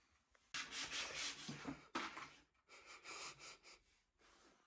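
Sanding primed MDF edges by hand with sandpaper, a close rasping rub in uneven bursts with short pauses between strokes.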